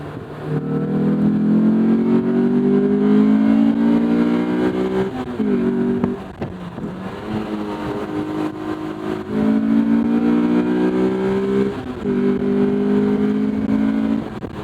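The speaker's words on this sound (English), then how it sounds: "You really have to rev it out." A 2008 Honda S2000 (AP2) engine revs up repeatedly, pitch climbing through each gear before dropping back, loud and close with steady cabin drone between pulls.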